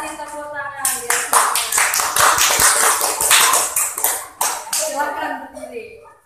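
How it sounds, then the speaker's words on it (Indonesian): A school class breaks into applause during a lesson on Islamic cultural history, a burst of many hands clapping between spoken moments, with a teacher's voice before and after it. "Kasih tepuk tangan ya."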